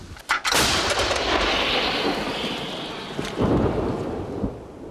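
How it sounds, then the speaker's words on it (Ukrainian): A single loud howitzer blast booms and rolls out into a long rumbling echo, followed by another heavy thud and fading reverberation, near Kharkiv. "гаубиця, хоч і не найбільшого артилерійського калібру, та стріляє досить точно"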